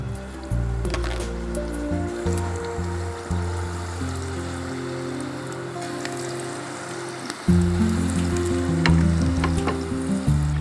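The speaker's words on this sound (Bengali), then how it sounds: "তেলটা গরম হয়ে গেছে, আমরা কি এখন দিয়ে দিব?" Continuous crackling sizzle of food frying in hot oil for haleem, close and steady, with background music playing throughout.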